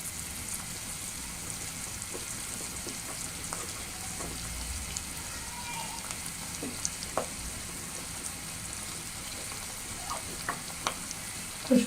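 Chopped garlic fries steadily in a pan, producing a continuous soft sizzle with occasional small pops and faint clinks throughout, no voices.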